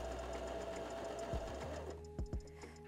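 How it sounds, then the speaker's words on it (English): A mechanical sewing machine with a leather needle stitching through two layers of leather, a close, steady mechanical whirr that stops partway, followed by a few short thumps. "I've kept the stitch the same as for the denim, but I have popped on a leather needle. It's going through two layers really well."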